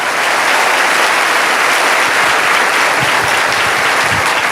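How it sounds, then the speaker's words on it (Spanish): A church audience applauding at a sermon, loud dense clapping from a large crowd that holds steady throughout, with no voices over it. "Aplaude más que eso si lo crees, que se escuche en el mundo."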